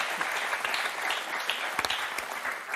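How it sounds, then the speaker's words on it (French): Studio audience clapping on a French television word game show, a brief patter of applause with a few sharper individual claps, fairly faint and even. "Applaudissements pour Sandrine et Daniel."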